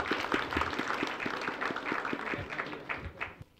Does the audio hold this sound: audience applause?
yes